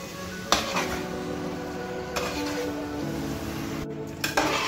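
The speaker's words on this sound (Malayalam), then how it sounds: "ശരിക്കും ഇളക്കി മറിച്ച് മിക്സ് ചെയ്യണം." A large 4 kg batch of masala beef fry is stirred and turned in a pan, with a few sharp utensil clanks against the metal over a low, steady background of cooking noise.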